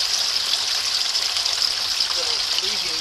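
Grey water draining out through holes drilled in the side of a filter bucket, a steady hissing trickle and splash that holds constant throughout.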